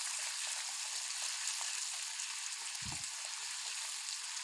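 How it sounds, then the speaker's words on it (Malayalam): Ginger, garlic, green chilli and curry leaves sauté in hot oil for a bitter gourd curry, giving a steady close broadband sizzle and crackle throughout with one brief low thump near the end. "ഇതും ഒരു ചെറിയ ഗോൾഡൻ കളറാകുന്നത് വരെ ഒന്ന് വഴറ്റി കൊടുക്കണം"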